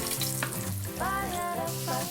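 Cheese crackles and sizzles in a hot pan, with a few tonal squeaks and scrapes as pieces are turned over; no talking.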